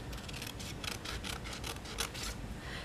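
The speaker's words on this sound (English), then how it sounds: "So what I did is I just took my scissors, let me grab them, and you're just going to cut them apart to kind of split them up a little bit." Scissors snip repeatedly through paper stamp pieces for a card, a quick run of about a dozen crisp, evenly spaced cuts close up, with no talking.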